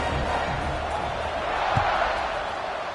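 A video-game football stadium crowd roars steadily at a kickoff between Kennesaw State and WKU, a broad continuous wall of cheering with a faint thump partway through, loud and unbroken for the whole moment.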